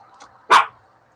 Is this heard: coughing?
no